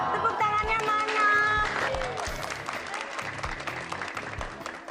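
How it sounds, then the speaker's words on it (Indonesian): Audience applause at an evening stage show, loud, dense clapping that bursts up early and gradually tapers, mixed with music and a few voices. "Tepuk tangannya mana?"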